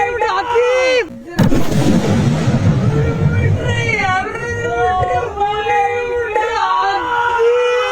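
A powerful firecracker bursts with one sharp, loud blast during an outdoor cracker test, its noise decaying over several seconds while people talk and shout nearby.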